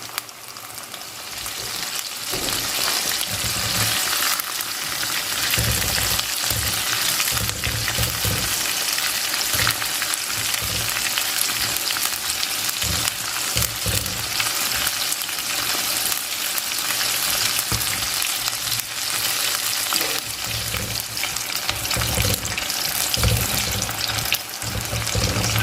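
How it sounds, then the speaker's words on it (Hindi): Chicken tenders deep frying in oil over medium heat, a loud, dense and continuous bubbling sizzle that stays steady and close throughout with no talk. "अब इस पर हम डाल देंगे चिकन। इसको गोल्डन ब्राउन होने तक फ्राई करूँगी मैं।"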